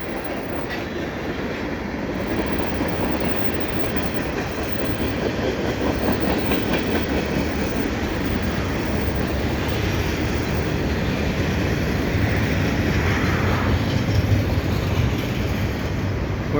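A CN freight train carrying gondola loads rolls past a footbridge in Dorval, giving a continuous loud rumble with faint clickety-clack of wheels on rail throughout, close and steady with no talk.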